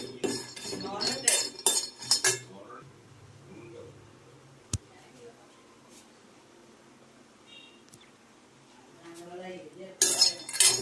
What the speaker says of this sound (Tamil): பாதாமை நம்ம இளவரப்பாக வறுக்கிறோம்.